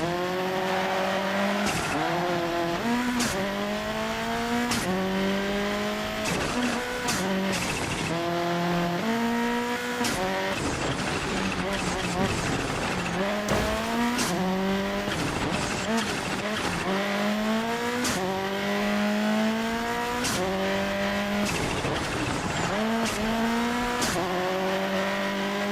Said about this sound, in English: Can hear the turbo of the car.